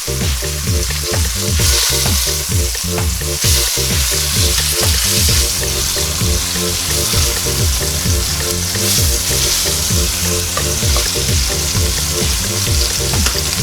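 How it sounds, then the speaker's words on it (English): Chunks of beef sear for a pot roast in a pan, a loud, steady, dense sizzle with spattering crackles throughout and no talk. "we're continuing to sear off"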